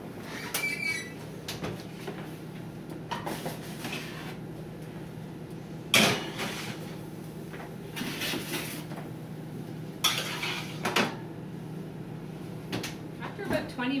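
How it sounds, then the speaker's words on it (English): Trays of meatballs are slid onto the middle rack of a preheated oven, with scattered clanks, scrapes and knocks of metal trays and the oven door spread through the scene over a low steady hum, while a person talks. "you can put them into the oven on the middle rack"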